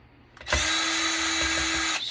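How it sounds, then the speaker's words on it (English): A power drill whirs steadily for about a second and a half, close and loud, backing steel screws out of a Cisco network switch, with no talking. "So you got to get all these screws out. These are all steel."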